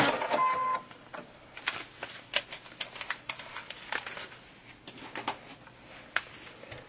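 A sewing machine stitches a quilt block, starting with a louder run and then continuing as a faint, uneven patter of stitching and handling noises.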